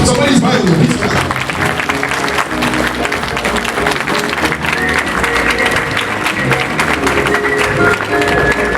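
Audience at a land law and customary law book launch claps loudly in a dense, sustained burst of applause, with voices talking over the clapping throughout.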